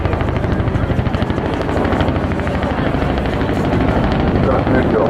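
A Vietnam-era helicopter approaches at the Southport Airshow, its rotor beating in a loud, rapid, steady chop with a deep engine drone underneath, continuous and close.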